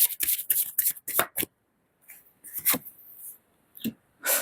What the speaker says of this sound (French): J'ai envie de tirer d'autres cartes là-dessus.